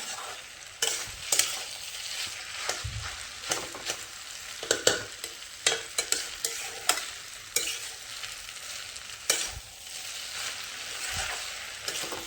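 Fried eggs and chow mein are stirred in a hot pan over high gas in a village kitchen, giving a continuous sizzle broken by repeated scraping and tossing strokes of a spatula at an irregular rhythm.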